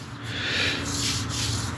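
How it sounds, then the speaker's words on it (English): Close, steady rasping strokes of sandpaper rub along a Jackson guitar neck, with no voices. "I got the neck sanded to where I like it"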